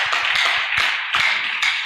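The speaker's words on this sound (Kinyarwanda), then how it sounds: "Dushobora kuyikomera amashyi." A church congregation at an evening service claps in a quick, uneven rhythm, each clap sharp and distinct, fairly close and alone without speech.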